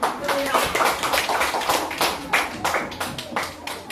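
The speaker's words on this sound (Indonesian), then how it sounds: "Ya, tepuk tangan." A small group claps in a classroom, the claps uneven and fairly close with some voices mixed in.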